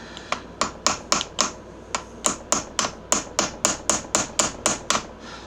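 Bearings on a John Deere LA125 mower deck are hammered down with a run of sharp metallic taps, around eighteen in slightly uneven rhythm with a brief pause near the middle, close and loud, no talking.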